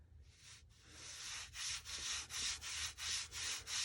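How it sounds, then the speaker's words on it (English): Gentle rubbing on the shiny side of an altered book cover, a soft close scratchy swishing repeated in a steady back-and-forth rhythm of about eight strokes, quiet and alone. "I'm just going to gently rub that."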